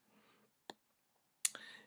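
A computer mouse clicks sharply twice, close and distinct, in a quiet room with faint voice sounds around the clicks.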